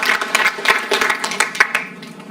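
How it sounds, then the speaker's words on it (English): Scattered clapping from an audience at a Paterson, New Jersey city meeting, a short burst of uneven hand claps that thins out and fades within a couple of seconds. "I think it's just fitting at this time if we would just give everyone a round of applause"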